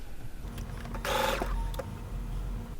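A sewing machine stitching a scant quarter-inch seam through a bulky quilt block at corners that are clipped together: a short, slow burst of stitching under a second long, between quiet pauses.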